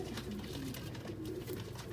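Sialkoti pigeons coo in soft, low, rolling calls over a steady background hum, with several birds overlapping close by.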